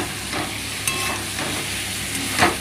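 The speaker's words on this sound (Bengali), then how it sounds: "এবার এর মধ্যে আমি আলু দেব, সব দিয়ে দিই, ভাজব, জাস্ট ফ্রাই করব।" Potatoes frying in a pan at home, a steady broadband sizzle with occasional stirring scrapes and a brief louder clatter near the end, close and fairly loud with no talking.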